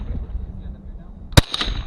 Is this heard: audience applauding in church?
no